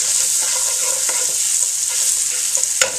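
Scallions fry in a hot pan, a steady loud sizzle running the whole time, broken now and then by the faint clicks and scrapes of a utensil stirring.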